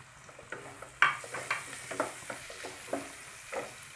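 Eggplant pieces and chopped onion frying in a pan for a fried rice, a quiet sizzle under a run of spatula scrapes and taps, several of them sharp and close.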